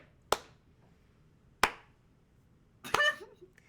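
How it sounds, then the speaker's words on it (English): Three slow, deliberate hand claps ring out about a second and a half apart in a quiet room, each sharp and close, the last one overlapped by a brief voice. "You hear a slow clap echo through the throne room"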